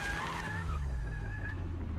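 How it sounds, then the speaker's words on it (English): Semi truck drifting in a video game, a continuous tire skid with a squealing tone over a low engine rumble, steady and moderately loud, no talk. "She's drifting a fucking semi truck."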